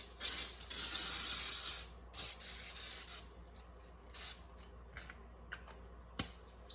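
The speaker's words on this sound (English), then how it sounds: "we will need to spray it with cooking spray" Several hissing bursts of cooking spray into an 8x8 baking dish, one long spray followed by shorter spurts and a brief final puff, with quiet gaps between.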